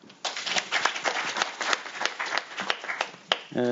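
Audience applause welcoming a professor at a citizenship education lecture, a steady wash of many hands clapping for a few seconds, moderately loud and close, with a brief voice at the end.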